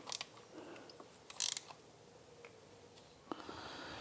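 A torque wrench tightens bolts on a Ford Pinto clutch, a few sharp ratchet clicks in short bursts with quiet pauses between, close by.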